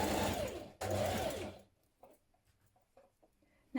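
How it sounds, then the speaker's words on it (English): A sewing machine stitches a sleeve in place on a New Look 6808 spring top, two loud close bursts of rapid stitching followed by quiet faint handling noises. "Stitch your sleeve in place."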